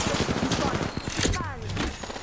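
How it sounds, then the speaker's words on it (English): Rapid gunfire bursts in Apex Legends, a dense crackling fusillade under game noise and a talking voice, with quick overlapping shots across the short moment. "Listen up, I'm getting shot at. Taking fire."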